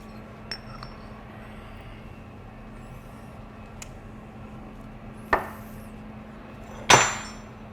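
Metal parts of a hydrostatic cutter clink and knock together as it is put back together, with a few sharp, close impacts spread across a quiet background.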